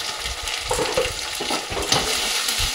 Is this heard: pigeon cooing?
no